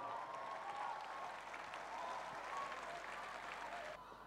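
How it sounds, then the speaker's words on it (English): Audience applause fills a school platinum jubilee celebration, a dense, steady wash of many hands clapping at fairly even volume before it thins out abruptly near the end. "Let's give him a big round of applause."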